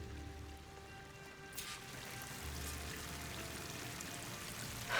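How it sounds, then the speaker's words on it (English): A waterfall in Horizon Forbidden West gives a steady, moderate rush of pouring water. The broad wash of sound holds constant throughout, with faint tonal game ambience beneath and a brief louder burst at the end. "That waterfall must be coming from somewhere."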